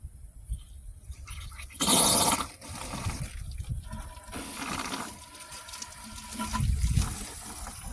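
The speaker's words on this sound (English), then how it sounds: "And then we got to turn our hose on." Water from a garden hose gurgles and splashes as it flushes through a Buick heater core, with irregular surges and a louder rush partway through, fairly quiet overall.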